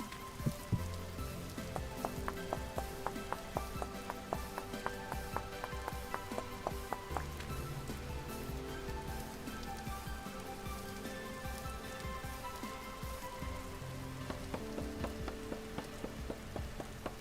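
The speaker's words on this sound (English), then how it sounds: "we can hear rain down here now" Rain falls in the video game Vintage Story, a steady soft patter of drops on surfaces under a faint low rumble, continuing evenly with no talk.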